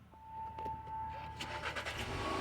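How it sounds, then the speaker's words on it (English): A 2016 Volkswagen Jetta 1.8 with push-button start and 152,000 miles cranks and catches, a brief whir and clatter rising into an idling engine, heard quietly from inside the car with no talking. "I'm about to start the vehicle. This is a push button start"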